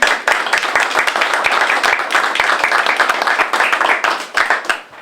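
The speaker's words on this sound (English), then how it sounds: "I would love if we can give them a round of applause for their doing." A room of listeners at a history talk claps together, with individual hand claps audible in a dense, lively patter that holds steady and then thins slightly toward the end.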